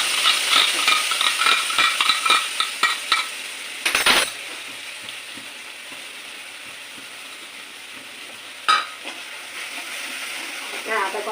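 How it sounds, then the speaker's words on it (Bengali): A ginger, cumin and coriander paste loosened with water, salt and turmeric fries for a jackfruit curry, with rattling stirring and scraping in the first few seconds, then a quieter, steady sizzle with a couple of sharp clatters. "আদা জিরে ধনে বাটা জিরে বাটা আর হচ্ছে তোমার নুন হলুদ দিয়ে একটু জল দিয়ে গুলে দিচ্ছি দিয়ে এটা আমি আগে ভেজে নিচ্ছি"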